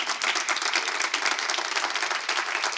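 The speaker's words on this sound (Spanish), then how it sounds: "Dale un aplauso a Jesús." A church congregation applauds during a sermon, many hands clapping in a full, busy roar with individual claps flickering through, steady and fairly close throughout.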